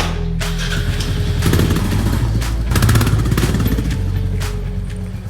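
A Royal Enfield Classic 350 motorcycle engine runs up close with a loud, throbbing thump, swelling in a couple of revs before settling back to an idle.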